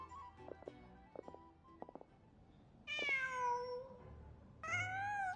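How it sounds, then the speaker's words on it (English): A cat in the Genshin Impact video game lets out two clear, close meows, one long and one shorter, after a few soft tapping clicks. "Just a cat."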